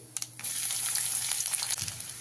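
Chopped garlic and nigella seeds frying in oil, a soft close sizzle with a few light clicks at the start before settling into a steady crackle.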